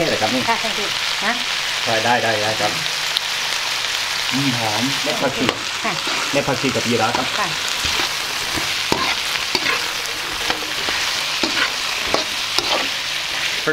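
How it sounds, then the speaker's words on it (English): Homemade Southern Thai curry paste with turmeric and black pepper stir-frying in a little oil, a steady close sizzle with scraping stirs, while a person talks over the first half. "she stir fries that in a little bit of oil"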